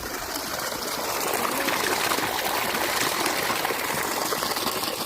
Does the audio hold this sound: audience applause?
no